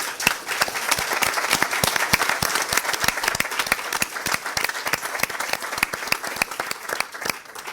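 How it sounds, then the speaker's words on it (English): Applause from an audience at a mayoral debate, with a crowd clapping steadily and some individual claps ringing out sharply and close at hand throughout. "they deserve a big round of applause"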